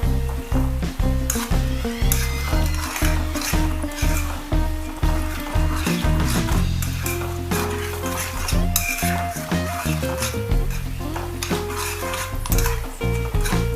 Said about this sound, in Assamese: পাছত সৰু সৰুকৈ পিচ কৰি থকা জলকীয়াকেইটা তাতে দি দিলোঁ।